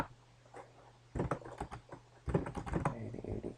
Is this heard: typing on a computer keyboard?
yes